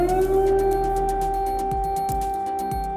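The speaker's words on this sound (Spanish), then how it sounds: "Sirenas de alarma han sonado durante todo el día en varias partes del territorio ucraniano" A steady, wailing air raid siren in Ukraine holds a sustained tone, loud and continuous, with faint distant thumps underneath.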